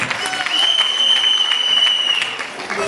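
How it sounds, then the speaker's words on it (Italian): Audience applause at a live show, a short burst of dense clapping that swells and then tapers, close and loud, with a steady whistling tone running beneath it. "Un altro applauso a questi umani curiosi che quest'anno sono trasformati."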